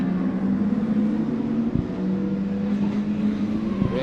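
Rallycross car at Mondello Park, a steady engine drone with a low sustained tone heard from a distance, continuous and fairly loud with brief dips.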